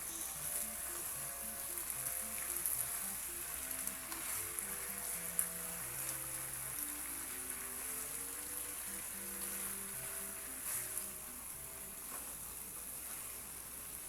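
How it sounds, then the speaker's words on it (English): Red onions fry in a pan with a soft, continuous sizzle beneath background music. "Put the red onions into the pan."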